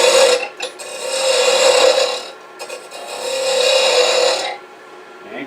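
A hand tool cuts into a wooden pull toy's head to round it over, making long raspy scraping strokes of about two seconds each, loud and close with short breaks between passes and no talk.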